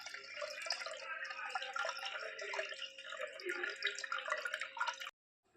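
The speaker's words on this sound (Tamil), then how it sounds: "எதுக்கும் ஒரு வாட்டி வடிகட்டி ஊற்றிக்கலாம்." Fresh milk poured through a strainer into a clay pot, a steady trickling, dripping stream that runs close and continuous for about five seconds, then stops abruptly.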